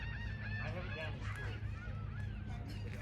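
Geese honk repeatedly in a loud, overlapping chorus from a nearby flock, with a steady low rumble underneath and no talking.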